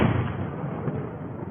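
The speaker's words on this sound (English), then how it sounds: "That sounds like an explosion." A deep explosion rumbles through night attack footage in Moscow, a dense continuous boom filling the whole moment with no voices.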